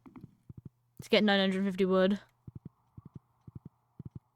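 Horse hooves clip-clop in a steady, even rhythm while riding in the Stardew Valley video game, a quick run of evenly spaced beats before and after a short stretch of speech.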